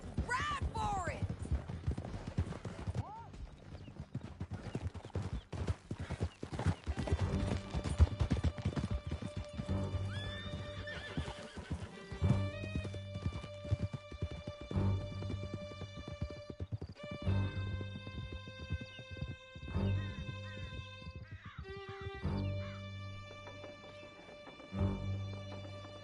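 Horses gallop in Red Dead Redemption 2, a fast, dense clip-clop of hooves with occasional neighs, close and steady under game music and shouted voices.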